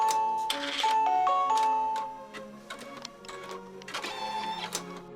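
A home embroidery machine sews a placement stitch on quilt fabric for a folded border piece, giving a rapid mechanical ticking and whirring with shifting pitched motor tones. The machine runs close and steady for about five seconds with no talking.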